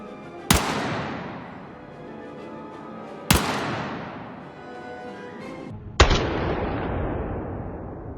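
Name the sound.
pistol gunshots from video game Battlefield 6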